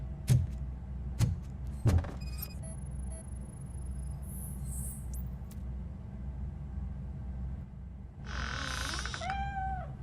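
Cat meowing in the video game RoboCop: Rogue City, a few clear rising and falling meows near the end over a steady low game ambience, after a few sharp thuds earlier.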